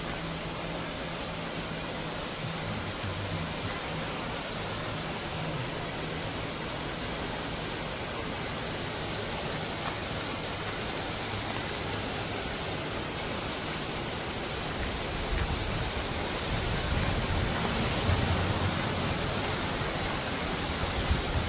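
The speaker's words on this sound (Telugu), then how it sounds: "horsetail falls, Colombia river guards national scenic area అంట" Horsetail Falls in Oregon's Columbia River Gorge pours as a steady, broad roar of falling water, constant throughout, swelling slightly louder near the end, with no talking.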